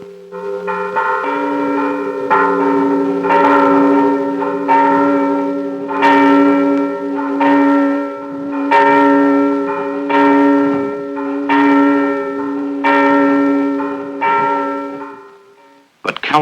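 Church bells ring in a steady, repeating peal, their rich overlapping tones sustained and loud throughout, with a brief clatter at the very end.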